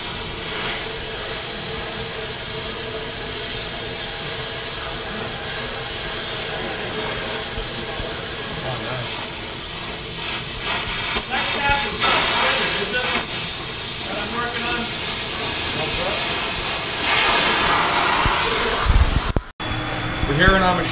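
Metal shaper running in a 1942 ship machine shop aboard the USS Massachusetts, a steady hissing mechanical drone with a faint rhythmic stroke, continuous and fairly quiet, ending in a brief clunk near the end.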